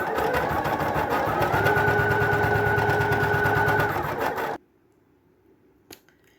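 A Poolin EOC06 embroidery machine stitches out a design with a fast, steady mechanical whir and needle chatter for about four and a half seconds, then stops abruptly. A single faint click follows in near silence.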